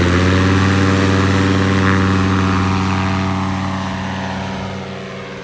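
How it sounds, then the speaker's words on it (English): A Polini Thor 202 two-stroke paramotor engine on a Fly Products Ryder runs at a steady, loud, throaty drone close by, with a constant buzzing tone that eases slightly toward the end. "When you fire this thing up, it sounds like a two-stroke dirt bike"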